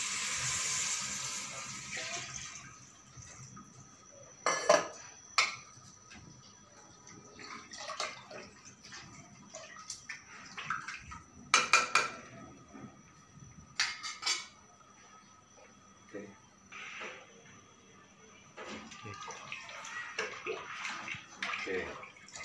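Water pouring and splashing into a pot of rasam in uneven bursts, with drips, clinks of cookware and faint background talk between pours.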